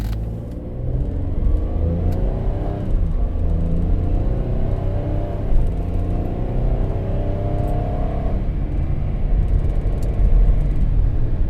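A van with an automatic transmission pulls away from a traffic light, its engine rising in pitch through a gear, then dropping as it shifts and climbing again, heard from inside under a constant road rumble.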